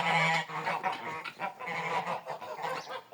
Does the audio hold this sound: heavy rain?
no